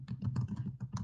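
Quick, light clatter of fingers typing on a computer keyboard, a rapid uneven string of close, quiet keystrokes with no voices.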